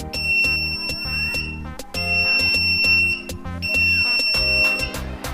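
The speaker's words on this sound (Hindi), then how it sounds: "जैसे इस डोर को मैं ओपन करता हूँ तो ये देखना ऑटोमेटिक इसका बजर वो बजेगा।" A door security alarm buzzer built as a school science project goes off as the door opens, sounding as repeated shrill electronic beeping pulses in close, loud bursts with short gaps between them.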